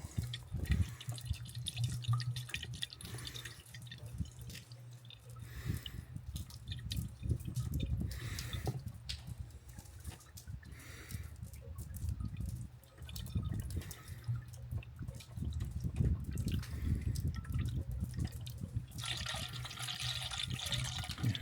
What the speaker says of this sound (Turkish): Şimdi antifrizi suyunu dolduruyoruz.